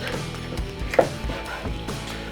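A knife works through the joint of a whole raw chicken being quartered, giving a few soft, close cutting and cracking sounds, with one sharper snap near the middle, over a quiet room.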